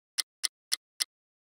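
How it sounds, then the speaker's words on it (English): A single clock tick sample triggered in Maschine; four short, sharp, evenly spaced clicks, clean and isolated against silence. "first you're going to need a tick or a tock."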